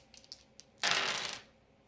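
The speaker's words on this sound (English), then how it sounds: "They will roll all 5 of their dice." Five dice tumble briefly across a board-game table in one short, close clatter lasting about half a second, preceded by a few light taps.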